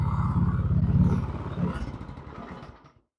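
A Craftsman 26-inch snow blower with a freshly rebuilt carburetor idles close by with a steady, rhythmic chugging putter. It fades and cuts out near the end.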